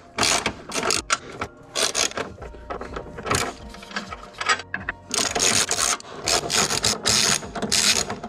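Wrench loosening the 15 mm top nuts on camber plates of a 2020+ Shelby GT500, a series of close ratcheting clicks in quick bursts with short pauses between them, no talking.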